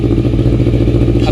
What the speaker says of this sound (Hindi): and it's a parallel twin engine 650cc, it sounds good